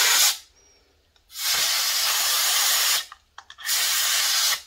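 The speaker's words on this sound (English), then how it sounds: "I'm going to take just a regular electronics duster and I'm going to spray where I put my electronic WD-40" A compressed-air electronics duster sprays into a Quest 2 VR controller in three loud hissing blasts, the middle one longest, with short quiet gaps between them.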